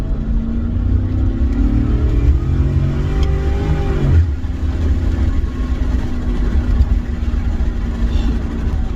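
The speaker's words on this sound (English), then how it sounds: "I'm gonna go through these turns again. I mean, it's just, the engine, it just screams." A Lincoln Mark car engine revs hard and loud through turns, its rising and falling whine sweeping up, dropping sharply near the midpoint, then settling into a steady drone with no talking.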